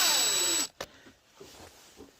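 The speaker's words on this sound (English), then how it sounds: "And so I'll get these screws back in here." A power driver whirs steadily driving small T10 screws into a wooden log piggy bank, then cuts off, leaving a few faint taps and small clicks.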